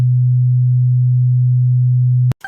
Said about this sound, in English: New tone. Oh, that's bright.